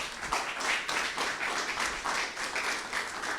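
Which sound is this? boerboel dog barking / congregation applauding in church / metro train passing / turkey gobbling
congregation applauding in church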